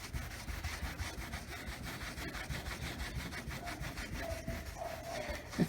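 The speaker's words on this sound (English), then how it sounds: "That same towel, terry cloth. And I'll just go back and forth." A terry cloth towel rubbed back and forth over peeling car clear coat, a steady rhythmic scrubbing close by with no talk.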